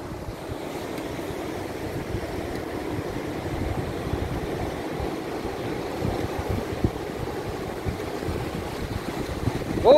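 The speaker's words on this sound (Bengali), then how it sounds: "ও যে দেখেন একটা ট্রলি ওখানে যাচ্ছে মাছ ধরার জন্য।" A fishing trawler heads out to sea off Kuakata beach, its low steady rumble blending with continuous wind noise and the wash of surf.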